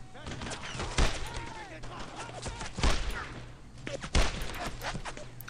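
Machine gun fire in the World War II shooter Brothers In Arms: Road to Hill 30, with three heavy booming shots spaced apart amid rattling gunfire and battlefield clutter, while someone talks underneath.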